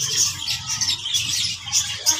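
A budgerigar chick gives rapid, high, squeaky chirps during hand-feeding, close and fairly loud, repeating almost without pause.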